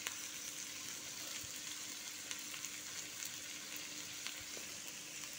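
Chicken frying in a pan with plenty of garlic and a whole large onion for chicken fried rice, a steady soft sizzle with faint crackles throughout, no talking.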